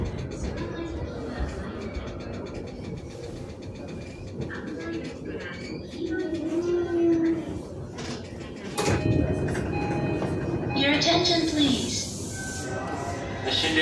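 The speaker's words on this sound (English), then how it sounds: "向かいは16番線三鷹行きが到着です" A train rumbles steadily into a Tokyo station platform, with a Japanese announcement of a train for Mitaka arriving on track 16 and ambient crowd noise over the roar, ending in a squealing brake.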